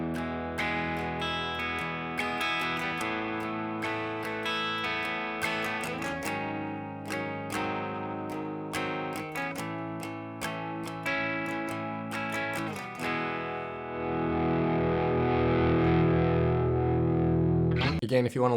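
Distorted rhythm guitar plays the intro of a song, a dense chiming chord pattern through effects that steadies into a fuller held swell near the end.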